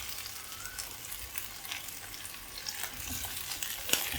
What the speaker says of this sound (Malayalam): മാങ്ങയും കൂടെ ചേർത്ത് നന്നായിട്ടൊന്ന് വഴറ്റാം